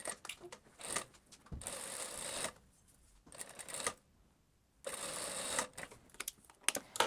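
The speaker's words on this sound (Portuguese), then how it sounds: "Lembrando de começar e terminar a costura com retrocesso." A sewing machine stitches a shoulder seam on a blouse in bursts, starting and ending with backstitch. Several close runs of rapid mechanical whirring are separated by short pauses and quiet handling.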